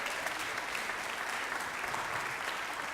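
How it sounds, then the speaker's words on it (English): A school choral concert audience gives the tech crew a round of applause, with steady, full clapping from a large crowd throughout, even in loudness with no talking. "Please give them a round of applause."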